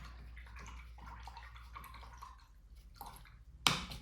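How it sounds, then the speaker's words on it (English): A paintbrush is rinsed in a cup of water, giving soft repeated swishes and drips at a quiet level, then one sharper splash or knock at the end. "I am going to rinse out my brush"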